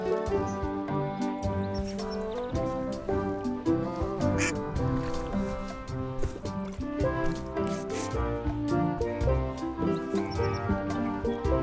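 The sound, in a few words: duck quacking in Return to Monkey Island video game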